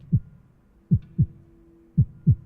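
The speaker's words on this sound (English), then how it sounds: "It's a heartbeat, but I assume it's him drinking." A heartbeat sound effect plays during a Call of Cthulhu tabletop RPG session, five deep, thudding beats in uneven pairs, heard alone and fairly loud.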